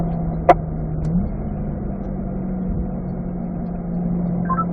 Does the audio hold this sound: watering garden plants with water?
no